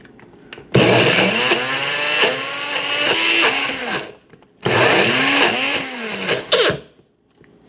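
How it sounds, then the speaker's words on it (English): A NutriBullet blender whirs loudly as it blends frozen banana ice cream, running in two long bursts with a short pause between them and a shifting, straining motor pitch. "We're going to pop the lid on there and put it on the NutriBullet"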